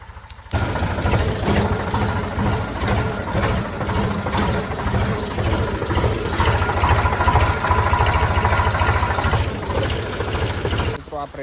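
A tractor-driven pressure sprayer engine runs for pesticide spraying, a steady mid-pitched mechanical drone that starts abruptly and holds evenly for about ten seconds before cutting off, close and fairly loud.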